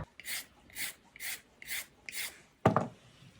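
A carrot is grated with a food processor grating disc in five soft, rhythmic rasping strokes. A louder clatter comes at the end.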